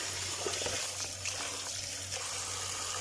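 Running tap water pours steadily while food is rinsed under it in a sink, a continuous close splashing with some clatter and no talk.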